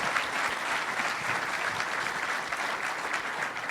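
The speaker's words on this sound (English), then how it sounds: "A round of applause for Gary and John." Keynote audience gives a round of applause, dense continuous clapping from a crowd in a hall, moderately distant and even throughout.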